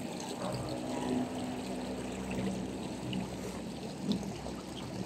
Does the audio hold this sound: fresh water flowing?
yes